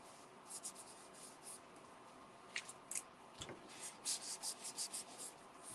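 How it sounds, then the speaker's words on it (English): Quiet scraping and rasping of a paper trimmer blade sliding across card, in short strokes that pick up into a series of faint slicing sounds. "And then I'll cut off the excess."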